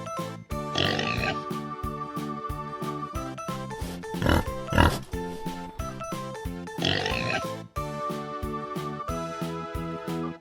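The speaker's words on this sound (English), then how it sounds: "You got it right, it's a little pig." A pig grunts and oinks repeatedly over a steady, rhythmic musical backing, the two sounds mixed at a moderate level.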